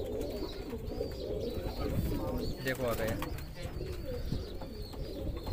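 Roller pigeons coo in low, repeated throaty rolls close by, with some wing flutter, while someone speaks briefly over them.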